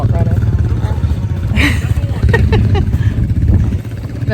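A four-wheeler ATV engine runs steadily on a farm during a cattle drive, a continuous close mid-pitched drone with clattering under people talking.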